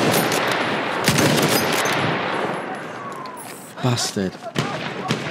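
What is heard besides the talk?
gunfire in video game Battlefield 1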